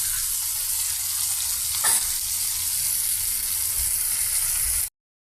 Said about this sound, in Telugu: మన చిక్కుళ్ళు ఈ విధంగా ఫ్రై అవుతున్నాయండి.